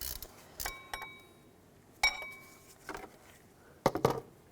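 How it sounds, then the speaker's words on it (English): A 13mm socket on a ratchet frees the bolts holding the power steering pump of a 2002-2009 Chevrolet Trailblazer. The clicks and metallic clinks come in a few separate bursts, close and fairly quiet. "Take a 13mm socket. Take those bolts out."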